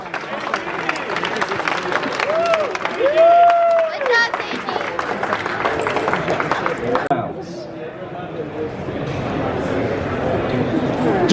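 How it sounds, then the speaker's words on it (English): Crowd applause and cheering at the WCFC 2019 balisong flipping competition at Blade Show West, a dense sustained clatter of clapping with a voice talking over it, thinning out toward the end. "Huge round of applause for Seiji."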